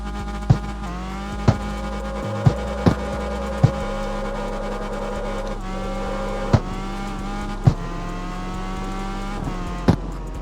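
Revving car engine in the Car X Street driving game, held near redline with repeated sharp exhaust pops and crackles punctuating the steady drone roughly every second, loud and close with no talk.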